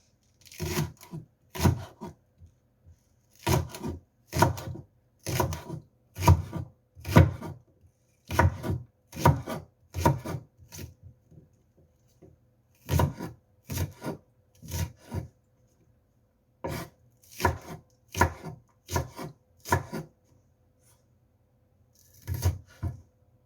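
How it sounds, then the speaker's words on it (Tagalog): A knife slices green onions on a cutting board in close, crisp chopping strokes, arriving in quick clustered runs separated by short pauses, with no one talking. "First, let's slice the green onions."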